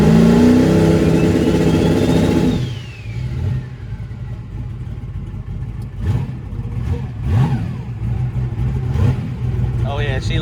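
A drag race car engine on cold air revs hard during a trans brake test, a loud close roar that drops after two seconds to a rumbling idle broken by short rising blips, with a voice talking briefly over it.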